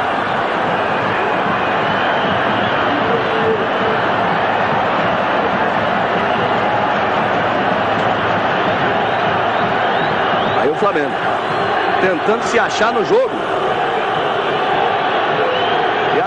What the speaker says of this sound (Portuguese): E a torcida do Grêmio vai à loucura no Estádio Olímpico